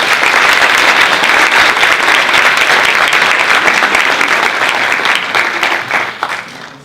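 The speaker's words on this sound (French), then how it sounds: "je vous demanderai d'applaudir très fort Maître Christophe Cabane d'Oribo" Loud, dense audience applause fills a hall at an evening event for the Concours Paul Boncour 2018 in Albi, steady throughout and fading slightly at the end, with no talk over it.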